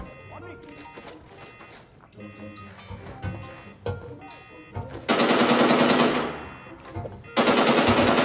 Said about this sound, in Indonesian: siapa tuh tembak-tembakan?